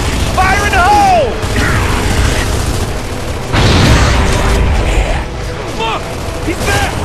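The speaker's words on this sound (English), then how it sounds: "Fire in the hole!" Gears of War 3 grenade explosion in the RAAM's Shadow campaign: a heavy, rumbling blast bursts out partway through, amid mechanical weapon clatter and shouting game voices.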